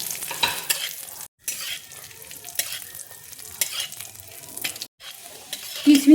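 Cashews and raisins fry in melted ghee in a pan for a kheer, giving a close, crackling sizzle with scraping stirs and brief pauses.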